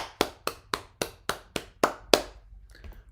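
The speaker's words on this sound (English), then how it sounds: "Let's clap." Eight sharp hand claps in a steady, evenly spaced rhythm, close and fairly loud, stopping cleanly with faint room tone afterwards.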